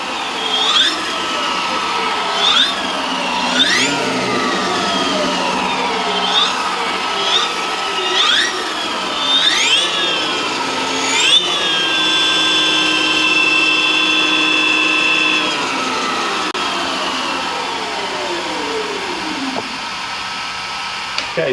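Outrider Alpha electric vehicle motor under throttle, a loud high-pitched whine that rises and falls in repeated short bursts, then holds steady before winding down.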